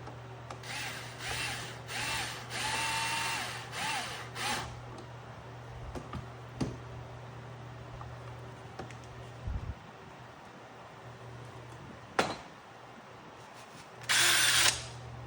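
A power drill drives number 4 by half-inch screws to secure a top down, whirring in several close, loud bursts early on, then a long quiet pause with light handling, and one final short burst near the end.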